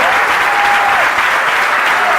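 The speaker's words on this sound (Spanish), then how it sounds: "Vamos a darle un aplauso a Cristo Jesús" Applause from a church congregation at a national convention in Mar del Plata, a steady loud wash of clapping that fills the whole stretch, with a faint tone gliding through it.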